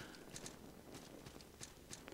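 Horse hooves in the video game Salt and Sanctuary, a few quiet clip-clop beats at an uneven pace over faint background noise.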